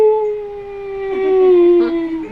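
A man imitates a wolf howl, one long, loud, close sustained tone that slowly slides and wavers in pitch, heard alone.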